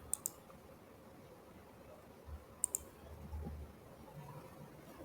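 A pair of quick, crisp computer mouse clicks near the start and another pair midway, faint and close against a quiet room hum, with no talking.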